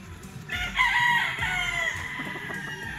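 A gamefowl stag rooster crows once on a farm, a loud, near, drawn-out call rising then trailing off, with faint background clucks and rustle.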